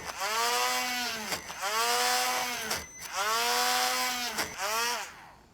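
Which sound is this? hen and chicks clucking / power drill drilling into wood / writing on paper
power drill drilling into wood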